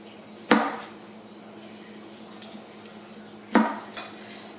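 Okra pods being cut with a knife, with a few sharp isolated knocks of the blade against a cutting board separated by quiet pauses, close and fairly crisp.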